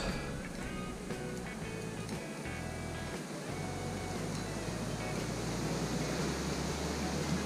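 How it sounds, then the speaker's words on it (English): Steady, dense rumbling outdoor wind noise buffets the microphone with a broad constant roar, low gusts swelling and dropping throughout with no voices. "I'm sorry for the wind noise"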